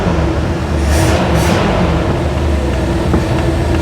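The engine of a 1975 Bricklin SV-1 runs with a loud, steady, close rumble that holds at an even level throughout, with no clear pauses.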